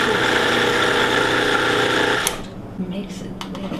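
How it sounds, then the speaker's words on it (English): A 30-year-old kitchen blender whirs steadily at high speed while mixing cheese filling for a Greek tiropita, then its motor cuts off abruptly, leaving quieter room sounds and a voice. "This blender is 30 years old."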